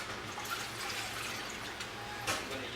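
Hot water runs from a kitchen tap in a steady, soft hiss and splash, with a short louder gush toward the end and no voices.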